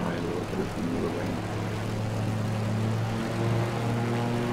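A propeller plane's engine in Microsoft Flight Simulator 2020 drones steadily through a dive, a constant loud hum whose pitch shifts slightly partway through, with no talking.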